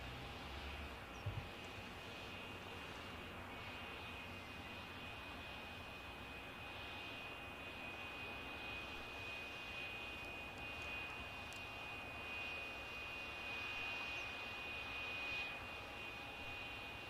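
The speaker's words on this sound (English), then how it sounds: "A330. Never seen one of these before in my life." An Airbus A330 jet flying at Aberdeen airport gives a faint, distant, steady engine drone with a thin high whine, a low continuous hum that swells slightly toward the end, no talk.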